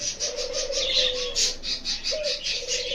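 Pet birds chirp in a quick, steady series of bright calls, close and fairly loud, over a continuous tonal hum.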